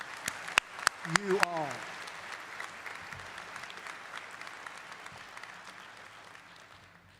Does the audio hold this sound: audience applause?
yes